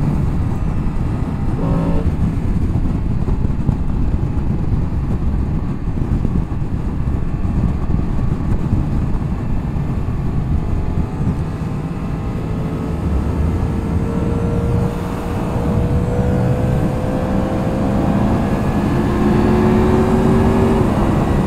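A 2022 Yamaha MT-10 motorcycle engine pulls hard through rising revs over a long stretch, drowned partly by loud wind buffeting the microphone.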